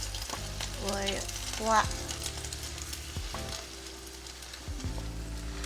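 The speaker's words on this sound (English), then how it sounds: "It's sizzling." Kimchi pancake batter sizzling in a frying pan with plenty of oil: a soft, continuous crackling hiss held under a man's nearby speech, with a few clinks of a utensil against the pan.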